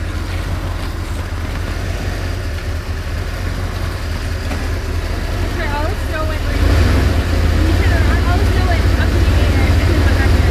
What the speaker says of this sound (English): Look how bad the exhaust leak is.